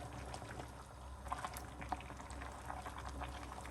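Quiet bubbling of spaghetti noodles boiling in a pot of oiled water, with scattered soft pops and gurgles over a low steady simmer.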